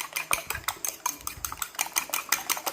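Curry powder is whisked with milk in a bowl, a brisk rhythmic clinking of utensil against the bowl, close and steady with no talk.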